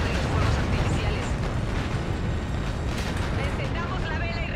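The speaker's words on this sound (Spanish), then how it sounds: "Vamos a ver la detonación de la torre." A tower detonation in Infinite Warfare rumbles as a dense, sustained roaring explosion, loud and continuous throughout.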